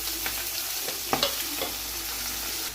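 Panch phoron, garlic, dried chilli and bay leaf fry in oil left over from frying fish, a steady sizzle and crackle with a few sharper spatters and stirring clinks partway through, close and clear with no talk.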